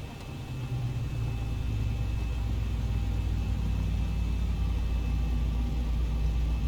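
An aircraft engine runs steadily in the X-Plane 11 flight simulator, a constant low rumble with a faint high whine throughout, no talking.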